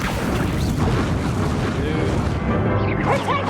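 A Confringo blasting spell goes off in Hogwarts Legacy, a loud booming explosion with a rumbling crash that fills the moment.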